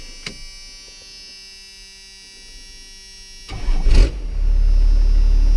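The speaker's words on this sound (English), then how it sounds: "let's go ahead and fire it up" A First Gen Cummins diesel truck, sitting unused for years and fitted with a fresh battery, cranks briefly and fires into a loud, deep steady idle after a quiet electrical hum.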